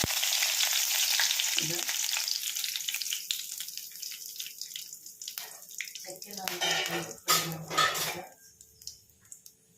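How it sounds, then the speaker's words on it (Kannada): Cinnamon, cloves and green chilli sizzle in a hot pan for vegetable pulao, a bright hiss that fades and then returns in bursts amid clinks of a spoon against the pan. "ಇವಾಗ ಎಲ್ಲ ಹಾಕ್ಕೊಳ್ತಾ ಇದ್ದೀನಿ ಚಕ್ಕೆ ಲವಂಗ ಎಲ್ಲ ಹಾಕ್ಕೊಳ್ತಾ ಇದ್ದೀನಿ"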